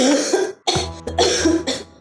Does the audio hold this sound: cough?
yes